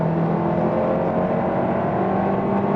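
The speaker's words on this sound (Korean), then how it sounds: "살짝 킥다운을 해보겠습니다." Hyundai Sonata Sensuous with a 1.6 turbo engine under kickdown, a steady loud engine drone with road and wind noise filling the cabin, no voices.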